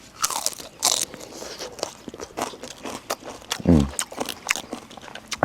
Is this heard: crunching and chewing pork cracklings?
yes